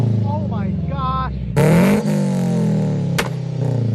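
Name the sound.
car revving through Buddy Club titanium single exit catback exhaust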